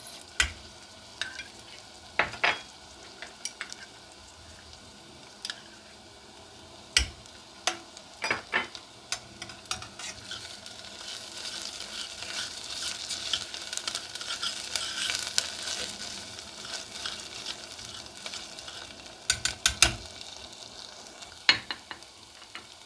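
Onions browning in a pan with tomato and pepper paste for lentil soup, a low, faint sizzle under scattered sharp taps and clinks of a spoon against the pan.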